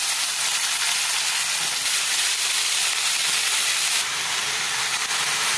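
Shredded cabbage hitting hot oil spiced with turmeric and red chili powder, giving a loud, steady sizzle and hiss of frying that runs unbroken and close throughout, with no talking.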